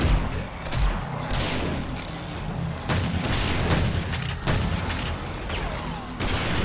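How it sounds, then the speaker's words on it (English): Gunfire from the survival game 7 Days to Die, with heavy repeated shots and booming blasts from a hip-fired gun over a dense, noisy battle background. "The nice thing about this gun is we can just shoot from the hip."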